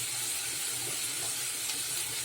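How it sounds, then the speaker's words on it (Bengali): Bitter gourd and potato pieces, salted beforehand, frying in hot oil in a wok, giving a steady, loud, close sizzle and hiss throughout. "এবারে তেল দিয়ে দিচ্ছি কড়াতে। আর এইখানে উচ্ছে আলু কেটে রেখেছিলাম নুন মাখিয়ে, এই যে কড়াতে দিয়ে দিলাম"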